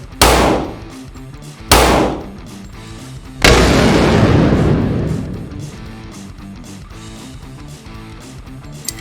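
Three loud pistol shots from 1911 and Glock 30S test guns on a range, two sharp reports about two seconds apart then a heavier blast with a long ringing decay.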